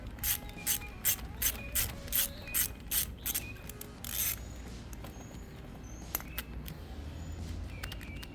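A socket wrench with a 1/2-inch socket ratchets on a walker wheel nut, giving a series of quick, evenly spaced clicking bursts up close that thin out into quieter scattered clicks.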